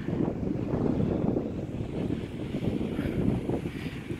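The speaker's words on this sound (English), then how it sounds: "It's very windy." Strong wind blowing at an ocean beach in Barrow, a steady, loud rushing roar with gusty buffeting across the microphone and no voices.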